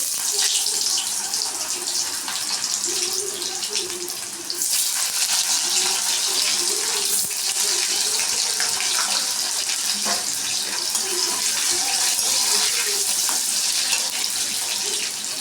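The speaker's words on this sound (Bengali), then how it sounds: "আলুটা এবার লাল লাল করে একটু ভেজে নেব।" Potatoes being fried in hot oil with whole garam masala and a bay leaf, giving a loud, steady, hissing sizzle that continues without pause, close up and with no talk.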